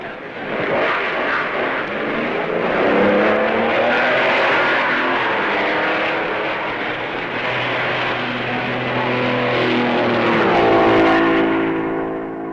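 A 1955 Maserati Grand Prix race car pulls away from the pits at the Belgian Grand Prix after plug trouble, its engine a steady, loud roar sustained throughout with a rising tone near the end.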